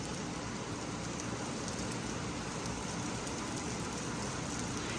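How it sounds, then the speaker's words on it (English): Heavy rain drums steadily on a tin roof at a golf course, a dense, even hiss and patter that stays loud and unbroken throughout, with no voices. "It's just such a nice sound falling from the tin onto the tin roof"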